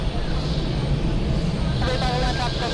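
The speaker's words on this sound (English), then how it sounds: "This is actually very nice for the A380 takeoff." An Airbus A380 takes off at JFK, a steady broad engine roar filling the scene from a distance, with people talking over it throughout.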